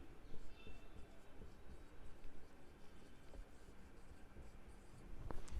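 A pen scratches across paper while accounts are written out by hand, quiet and close with small irregular strokes, plus faint room noise and a brief louder knock near the end.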